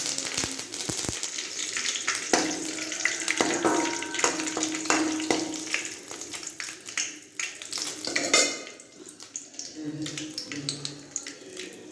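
Crackling sizzle of curry leaves frying in hot oil, with scattered pops and stirring clatter at close range.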